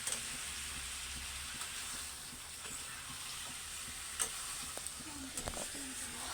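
Chicken leg biryani stirred and frying in a pot, a soft continuous sizzle with occasional scraping clinks, close by, with voices talking faintly in the background.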